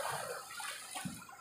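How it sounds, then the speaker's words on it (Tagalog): Strong sea waves wash and surge along the shore at Napla Islet, a steady, fairly faint rush of water with no voices over it. "parang galit yung dagat. Ang lalakas ng mga alon."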